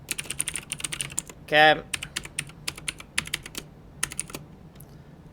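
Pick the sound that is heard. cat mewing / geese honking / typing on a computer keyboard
typing on a computer keyboard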